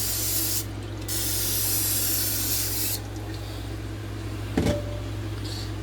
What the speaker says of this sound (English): We're just going to spray the inside of the pan.